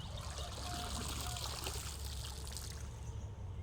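Water trickles and drains from a scoop of golden apple snails lifted out of a tank, a steady close splashing dribble that runs continuously throughout.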